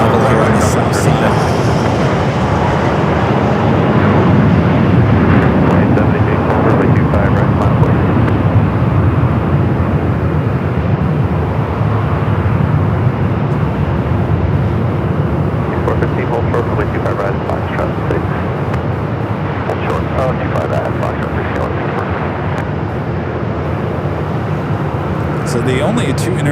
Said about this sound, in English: Southern Airways Express, next arrival here on the south side.